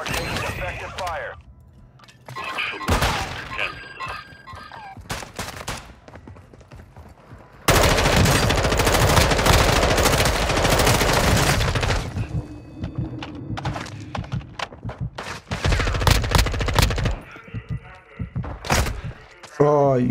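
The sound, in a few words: gunfire in a video game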